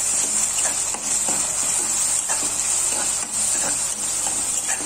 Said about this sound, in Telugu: ఈ టమాటా పేస్ట్ కలిపేసుకోవాలి